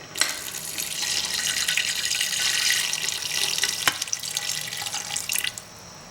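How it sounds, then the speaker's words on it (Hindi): About a glass of water is poured into a pot of Mysore mutton curry, giving a continuous bright splashing pour with a sharp start and a few trailing drips, close and alone without speech. "लगभग 1 गिलास पानी मैंने इसमें डाला है।"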